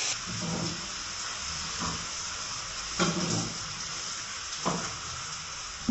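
Two green chillies frying in a pan, giving a steady close sizzle and hiss with a few louder stirring scrapes. No one speaks.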